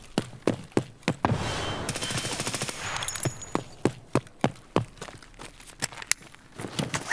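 Gunfire in the video game Escape from Tarkov: sharp, close single shots crack in an uneven rhythm, with a dense rapid burst and crackling debris in the middle.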